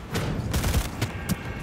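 Rapid smart pistol gunfire in the video game Cyberpunk 2077, a quick run of punchy shots with heavy low thumps and a bright crack near the end, loud and close.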